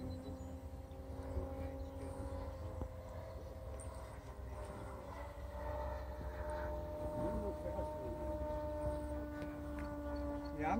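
Spitfire model aircraft engine at full throttle, a steady droning whine with sustained harmonic tones and some pitch shifts as it passes, heard continuously over wind and background noise with people talking nearby.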